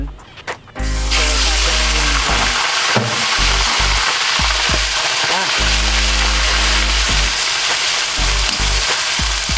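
Liver for Marikina-style menudo goes into a hot pan and erupts into a loud, steady sizzle after a few clicks. Occasional stirring knocks sound under the frying.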